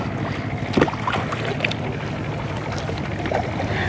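Paddling a sea kayak in Phang Nga bay, with soft repeated paddle splashes and water wash over steady wind and boat noise, no talking.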